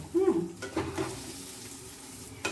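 Gobindobhog rice tossed in hot oil with bay leaf and turmeric, with a few close spatula scrapes and stirring strokes over a soft, continuous sizzle.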